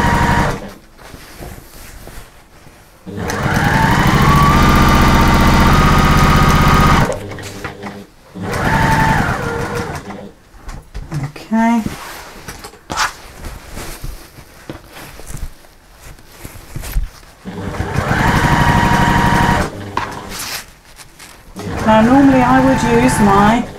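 A sewing machine stitches around an appliqué on a cushion at a slightly lengthened stitch, running in several loud, steady bursts with short pauses between them, while a voice talks in the gaps.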